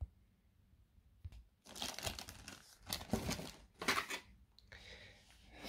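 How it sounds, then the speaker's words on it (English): Packaging for a Gro Egg 2 baby room thermometer crinkles and tears as it is opened, a quiet pause giving way to bursts of close, rustling crumpling with sharp cracks, then a softer rustle. "So we'll get out the packaging quick."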